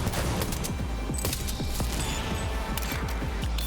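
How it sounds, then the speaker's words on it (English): A sustained burst of gunfire in a Cyberpunk 2077 fight, rapid overlapping shots crackling without pause, loud and continuous throughout with no talking. "Oh, there we go. Now he's shooting."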